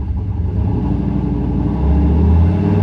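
A car engine held at steady revs against a transbrake in two-wheel drive, a loud close droning rumble that swells slightly louder near the end, with no talk over it.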